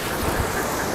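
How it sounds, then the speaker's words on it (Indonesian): A small river flows nearby, giving a soft, steady rushing wash of water that stays even for a brief moment, with no talking over it. "Suara sungai ya."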